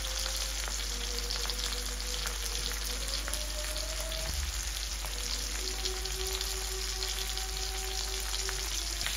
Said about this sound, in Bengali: মাছগুলো এখন 1 পিঠ ভাজা হয়ে গেছে।